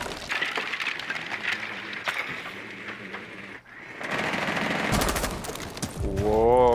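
Rapid gunfire in Rainbow Six Siege shoots at a hatch, with sharp cracking bursts through the first half, a brief lull, then heavier loud firing and game sounds building toward the end.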